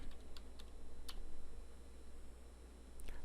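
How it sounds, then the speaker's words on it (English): A command typed on a computer keyboard while setting up a VyOS router, with a few scattered key taps over a steady background hum, faint and close, with no talk. "When you type the word commit and press enter"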